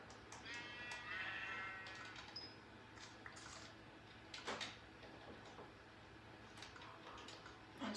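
Sheep bleat from a video game, a wavering cry early on followed by faint shuffling and knocking sounds at a steady, low level with no talking.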